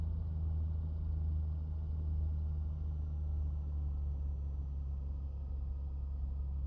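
Steady low engine rumble from a Piaggio aircraft in Microsoft Flight Simulator 2024 as the throttle is eased up slightly, a continuous droning hum with no talk.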